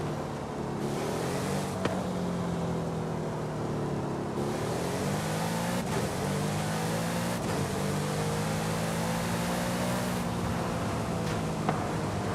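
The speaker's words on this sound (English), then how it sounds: "Is this a twin turbo V8? Because it sounds like a V8 to me." A twin-turbo V8 car engine revving in Forza Horizon 5, rising and falling harmonic engine tones with repeated climbs in pitch and sharp shift breaks, loud and continuous with no talking.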